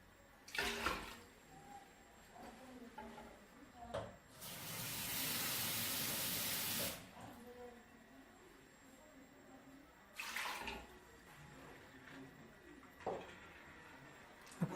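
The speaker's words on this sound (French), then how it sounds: "Je vais mettre de l'eau." Water pours into a cooking pot while Mayebo with mbinzo and nzombo is being made, a steady broadband rush lasting about two and a half seconds at mid-clip, with quieter kitchen clatter before and after.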